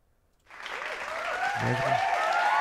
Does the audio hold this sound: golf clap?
yes